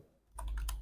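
A few quick keystrokes on a computer keyboard while entering text in Adobe Illustrator, soft clicks after a short quiet start, close and fairly faint.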